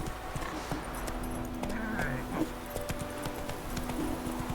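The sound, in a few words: horse hooves cantering in video game Witcher 3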